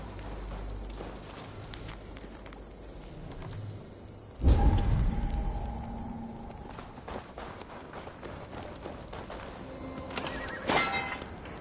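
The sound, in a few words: horse neighing in video game Assassin's Creed Valhalla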